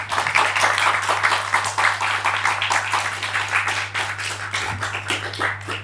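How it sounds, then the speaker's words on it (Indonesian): An audience of football supporters applauds at a gathering, a dense, continuous patter of many hands clapping close by with a low steady hum underneath. "Tepuk tangan untuk kita semua."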